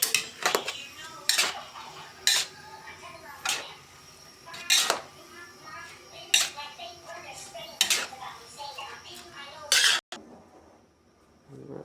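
Pansit noodles and vegetable broth stirred in a pan, giving repeated sharp metallic utensil scrapes and clanks against the pan at an uneven rhythm, close and fairly loud, with a voice talking in between.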